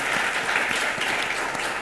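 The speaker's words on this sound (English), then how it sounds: "please give a round of applause to the events team" Dense audience applause for the events team at the Mysten Labs Sui Basecamp conference, a steady wash of many hands clapping at close range, continuous and fairly loud with no break.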